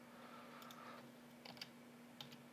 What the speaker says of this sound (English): you'll just want to come in here and keep typing in all your nutrients